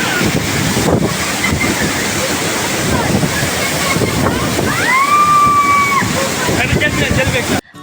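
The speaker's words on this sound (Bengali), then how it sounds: "এতটাই গতি ছিল ঝর্ণার" A steady, loud roar of rushing waterfall water at Sajek, Bangladesh, fills the whole clip, with voices briefly rising over the noise.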